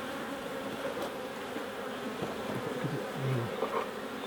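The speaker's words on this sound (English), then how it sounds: "there's a couple of bees at the front" Honey bees buzzing at a beehive in the UK, a dense continuous hum of many insects, steady and close throughout.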